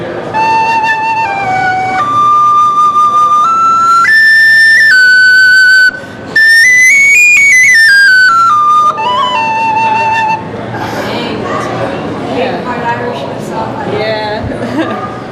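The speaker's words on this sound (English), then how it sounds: "So the penny whistle." A penny whistle plays a short melody of clear, bright stepped notes, then stops and people chatter nearby.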